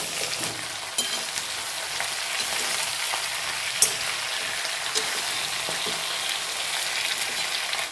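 Three kilograms of white onions frying in a large pan for a spicy Kolhapuri onion-garlic chutney, a continuous loud sizzle with occasional stirring clatters and no voices.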